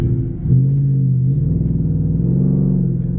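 A noisy truck engine revs at a car show, a loud, steady low throbbing rumble that swells slightly after the start and holds without pause.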